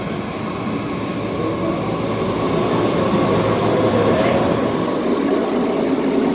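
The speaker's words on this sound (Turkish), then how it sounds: "şimdi bizim trenimiz geliyor" A passenger train pulls into a station with a steady loud rumble of wheels on rails, a continuous close roar and a brief high squeal of braking wheels near the end.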